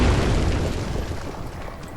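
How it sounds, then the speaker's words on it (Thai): An explosion in the horror game The Evil Within booms with a heavy, rumbling blast that slowly decays over two seconds, with no talk over it. "โอ้ยระเบิดลั่น"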